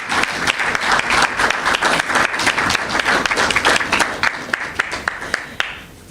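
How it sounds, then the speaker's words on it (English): Loud, dense applause from an awards ceremony audience, with many hands clapping in a steady sustained burst that thins out and fades near the end. "That deserves another round of applause, right?"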